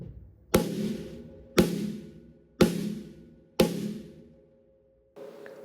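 Four sharp, cracking snare rimshots struck about once a second, each ringing briefly before fading, followed by a softer hit at the end.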